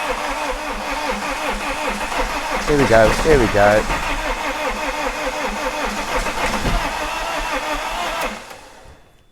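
An Iveco Daily recovery truck engine cranks over and over with a steady starter whir, air in the fuel system, briefly catching and sputtering before dying down, while someone speaks over it.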